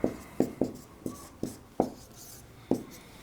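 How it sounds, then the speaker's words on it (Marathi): A pen writes out a math solution in a series of seven sharp, close scratching strokes spaced unevenly over a few seconds, with no talking. "त्याचं सोल्युशन इथे लिहितो मी."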